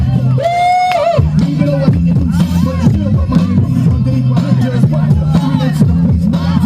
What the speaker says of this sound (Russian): Поддержим его аплодисментами все вместе!